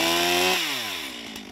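A chainsaw cutting dead standing wood in a park during a cleanup, a loud close engine whine that drops in pitch as the chain bites and then trails off, with no talk.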